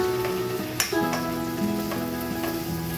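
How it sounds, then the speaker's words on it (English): Pasta primavera vegetables sizzle steadily in a pan while being stirred, with a constant frying hiss and occasional scrape and clink of the utensil against the pan. "Give that a nice stir. Mix everything here."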